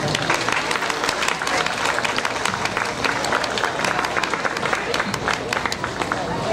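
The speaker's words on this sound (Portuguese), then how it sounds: "Vamos receber a Isla com a salva de palmas." A crowd applauds during a 7 de Setembro independence day parade in São Domingos, Maranhão, a dense outdoor patter of many hands with a babble of voices mixed underneath.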